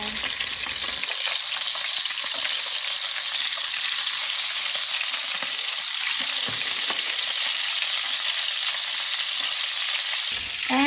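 Ilocos longganisa sausages fry in a pan, giving a loud continuous crackling sizzle that holds steady throughout at close range, with a faint stir near the end.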